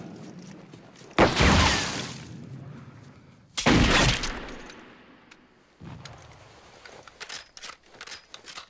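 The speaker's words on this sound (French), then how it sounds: "Tire Yoda" Gunfire in a war film: two loud sharp bursts of shots a couple of seconds apart, followed by quieter scattered clatter and crackle.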